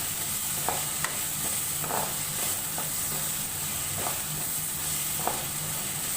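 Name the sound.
stirring potatoes with cumin and garam masala frying in pan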